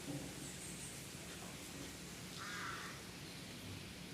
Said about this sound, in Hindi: बारिश हो रही साथ साथ।